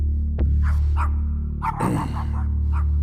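A dog barks a few times nearby, sharp single barks with short gaps and some softer yips between them.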